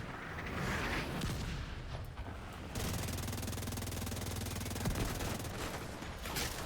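Sniper gunfire in The Division 2 amid a burning shipping-container area: a rumbling battle din with a sustained stretch of rapid automatic fire through the middle, loud and continuous.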